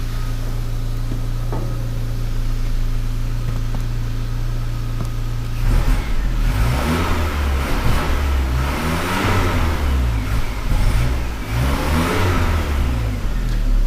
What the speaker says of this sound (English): let's just give it a rev and see how it sounds